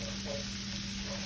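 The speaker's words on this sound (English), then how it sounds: "Just let it simmer." Chili simmers in a pot with a dense, constant bubbling hiss close by, steady throughout with no talking.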